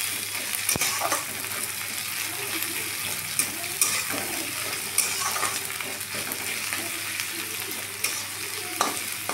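Chopped onions fry in a pan for a Bengali egg chicken tarka, giving a continuous soft sizzle with occasional stirring scrapes and light clinks close by, without talk.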